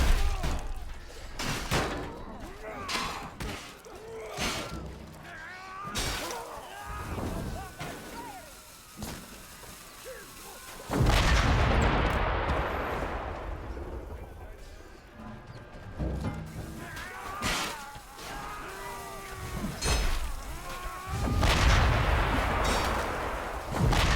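Booming cannon blasts from a medieval bombard in the Chivalry 2 battle game, a couple of heavy, roaring explosions standing out amid clashing melee thuds and battle noise, fairly loud and close.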